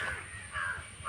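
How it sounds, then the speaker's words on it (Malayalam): Crows quarrel nearby with a few harsh, rasping caws in quick succession, fairly loud against a quiet background. "കാക്കകൾ വഴക്കുണ്ടാക്കുന്ന"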